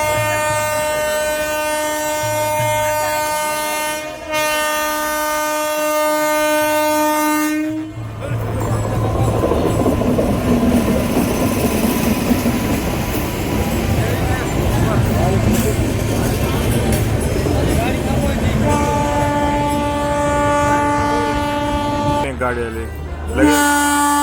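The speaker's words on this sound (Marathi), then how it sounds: "अजून एक गाडी आली 2 मिनिटानंतर आणि पूर्ण ही पण पॅसेंजरच आहे." A passenger train arrives at a crowded station near Nira on the Alandi–Pandharpur wari route, its horn blaring in long tones before a loud rolling rumble of the cars with crowd noise and talk around it.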